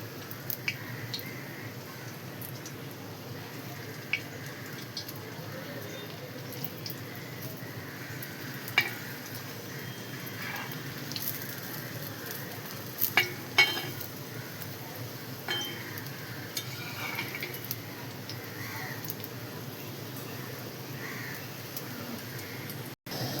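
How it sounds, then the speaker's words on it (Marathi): Egg-coated bread frying on a hot griddle, a steady low sizzle running throughout with occasional soft pops and small spatters, close and fairly quiet, no voices. "तर चला आपण आता मस्त छान अशी फ्राय करूया बघा."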